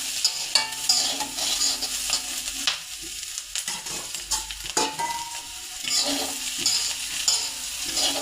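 Potatoes and onions are stir-fried in a pan for kizhangu mezhukkupuratti, a crackling sizzle broken by repeated scraping stirs of a spatula, close and moderately loud with brief quieter gaps.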